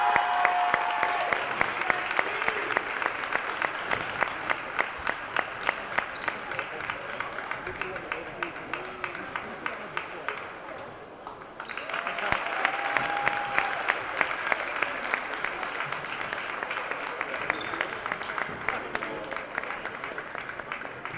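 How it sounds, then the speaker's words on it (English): Sustained crowd applause fills a high school gym on girls' basketball senior night, honoring a player, with a brief dip midway before the clapping swells again; scattered voices mix in. "Let's give a round of applause to number 24, Victoria Rodriguez."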